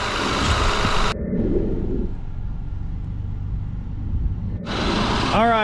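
A Toyota 3.3 V6 AWD engine idles with a steady low rumble, briefly cut by louder broadband bursts at the start and end of the stretch.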